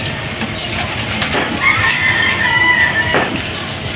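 Pigeons coo and murmur inside a pigeon loft, with steady background noise and a soft fluttery rustle.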